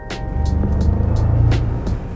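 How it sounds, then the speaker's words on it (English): A 2021 Bentley Bentayga V8 in sport mode on a winding road, its engine a steady, loud, low rumble that builds and holds throughout, heard from inside the cabin with no talking. "there's a nice V8 sound there that comes through"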